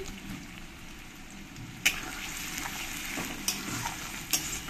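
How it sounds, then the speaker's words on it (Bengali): Onions with salt frying in a pan, a quiet steady sizzle throughout with occasional sharp clicks of a spoon stirring against the pan. "পেঁয়াজগুলোকে আমি একটু ব্রাউন কালারে ভেজে নেব।"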